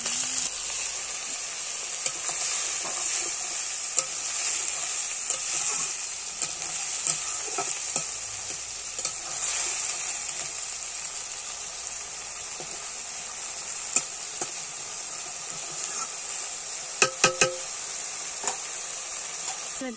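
Ginger-garlic and cumin paste frying with a little water in a pan, a steady bright sizzle running throughout with occasional stirring scrapes and clinks, fairly close.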